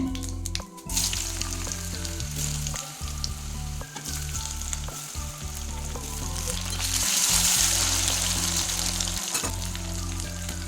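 Potatoes frying in hot oil with a bay leaf and cumin, a steady close sizzle throughout that swells louder for a moment near the middle, with occasional stirring scrapes and no talk.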